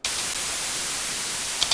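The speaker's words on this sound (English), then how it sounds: "We are gonna go from this plain stale white noise" Plain, steady white noise hisses at an even level for under two seconds, a flat broadband wash used as raw material before being shaped into an electricity effect.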